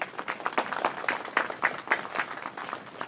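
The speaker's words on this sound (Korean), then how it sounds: "고마움의 박수를 좀 부탁드리겠습니다." An audience applauds at the opening ceremony of a memorial hall. The clapping is steady and moderately loud and lasts a few seconds, heard from within the crowd.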